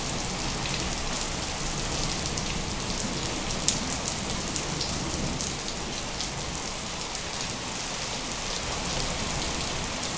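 Steady, heavy rain falling in Punjab, a dense and even wash of drops on surfaces that continues without a break for the whole stretch, with no talking.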